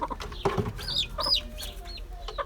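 Backyard hens cluck and squawk in short bursts close by in their nesting boxes, a few rising calls overlapping over a quiet background.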